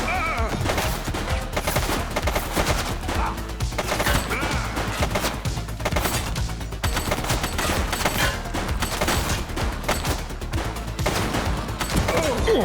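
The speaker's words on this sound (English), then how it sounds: "Shots fired! Suspect is down." Dense, continuous volleys of gunfire ring out in a police takedown of a suspect, shots overlapping into a loud, sustained fusillade with broadband cracks throughout and no clear pauses.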